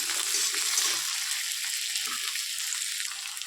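Potatoes frying in a pan, a steady bright sizzle running throughout at moderate level, with a few soft stirring clunks and no talking.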